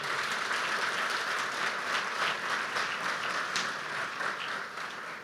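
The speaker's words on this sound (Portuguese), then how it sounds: "Dá um salve de palmas para Jesus, por favor." Sustained applause from a congregation at a Christian church program, steady dense clapping throughout that tapers slightly toward the end.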